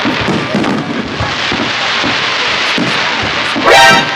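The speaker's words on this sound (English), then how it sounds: "And then there was fireworks." Dense, continuous crackling and popping booms of a fireworks display blend into a loud roar, with a rising whistle near the end; no voices are heard.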